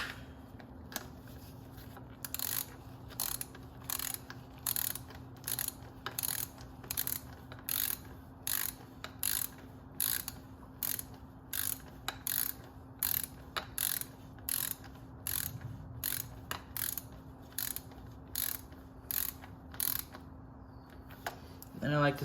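A socket ratchet clicks rapidly as it tightens the drain plug on a Honda CRF 230L motorcycle, steady bursts of sharp close ratcheting repeated in even strokes with short gaps, over a faint background hum.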